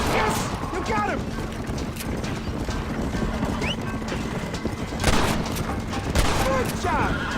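Gunshots in Red Dead Redemption on PS5, mixed with horse hoofbeats and whinnies: several sharp cracks spaced irregularly over a steady clatter of hooves, with voices talking over it.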